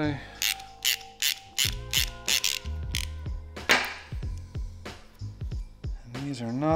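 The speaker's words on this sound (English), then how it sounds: "Screw it in the rest of the way." A ratcheting hand tool clicks in repeated bursts as a piston is screwed into place during a go-kart rebuild, with sharp metallic pawl clicks and creaks, close and fairly loud, and a few faint voice fragments between them.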